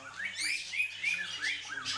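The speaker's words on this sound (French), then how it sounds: "on a un African Grey, on a un cocatel, on a un Jendaya Konyo, plusieurs oiseaux" Several pet birds, including an African grey parrot, a cockatiel and a jenday conure, chirp and whistle continuously at close range with repeated rising calls and no talk.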